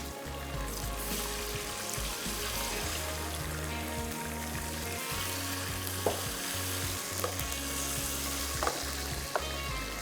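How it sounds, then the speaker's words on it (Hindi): Curry leaves and garlic ginger paste crackle and sizzle in hot oil for black pepper chicken biryani, a dense continuous frying roar with scattered sharp pops and a low rumble beneath, no talking. "कड़ी पत्ता जो अच्छे से कड़कड़ाने लगा है"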